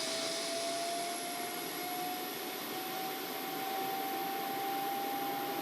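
Auxiliary power unit of a Boeing 737-800 in the X-Plane 11 flight simulator, a steady broadband whine and roar with a faint rising tone, continuous and even throughout with no talking.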